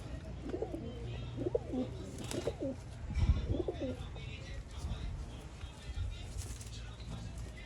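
Pigeons kept for sale in Bangalore coo in soft repeated bursts of about three calls, close by, with someone speaking intermittently over them and a faint background hum.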